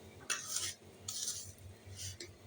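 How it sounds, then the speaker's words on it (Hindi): A spoon stirs semolina and sugar in a pan for suji halwa, producing soft, repeated scraping swishes in short bursts, quiet and close with no voices. "चम्मच चलाकर आपने पूरी सूजी के अंदर इसको मिक्स करना है"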